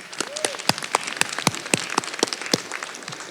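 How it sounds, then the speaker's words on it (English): At an adult education graduation, a modest audience gives a short burst of uneven applause, distinct individual claps close by, with no talking. "can we also give them a round of applause?"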